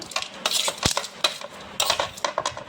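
Fried bitter gourd pieces dropped into a wide pan, giving a quick run of metallic clinks, scrapes and light clattering taps close by.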